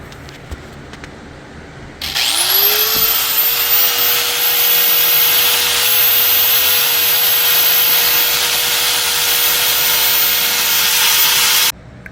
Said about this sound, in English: what you gotta do is you gotta sand down all this material